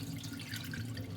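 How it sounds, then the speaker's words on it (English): Water poured off rinsed lentils into a sink, a short splashing, trickling pour with a low steady hum beneath, quiet and close for about a second. "just pour the water off."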